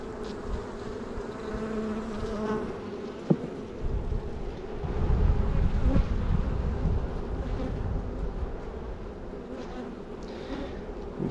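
A loud, feisty honey bee colony drones continuously during a cold early-spring hive inspection, the dense buzzing swelling midway with a brief knock near the start and some wind rumble underneath.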